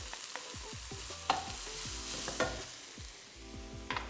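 Minced ginger frying in a wok for a Singapore-style Chinese takeaway dish, with a bright continuous sizzle broken by repeated scraping strokes and a few sharp metallic knocks of the utensil, close up and without talk.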